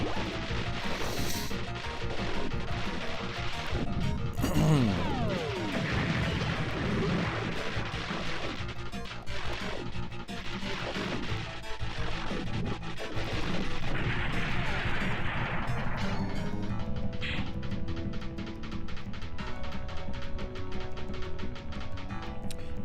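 Bomb blasts in a PS1 shoot 'em up, dense crashing booms layered over continuous game music and effects, loud and steady throughout with a brief quieter tonal stretch near the end.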